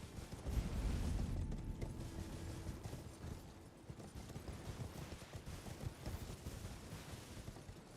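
Horse Torrent galloping across open terrain in the video game Elden Ring, a dense rapid clatter of hooves with heavy low thumps, loudest at the start and continuing steadily throughout.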